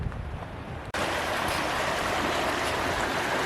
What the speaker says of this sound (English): there's a really small waterfall just trickling right down through that little gap right there